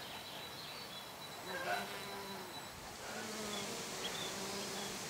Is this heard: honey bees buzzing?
yes